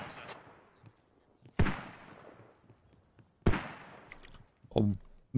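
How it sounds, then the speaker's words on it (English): Incoming mortar volleys land in the video game Squad, with several sharp, loud blasts spaced a couple of seconds apart. Each blast trails off in a rumbling decay, and faint sounds of a voice come in between. "Here comes the mortars."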